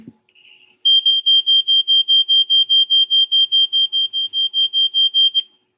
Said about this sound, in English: So it looks like this student used an alarm clock noise